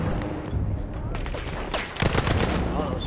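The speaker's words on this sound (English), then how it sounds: "support's a light machine gun" Rapid gunfire from a light machine gun in the World War I shooter Battlefield 1, loud, dense bursts and booms crowding the battlefield mix, with talk faintly underneath.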